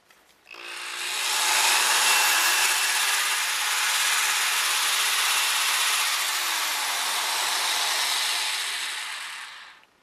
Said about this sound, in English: I can run my Skill drill now off solar.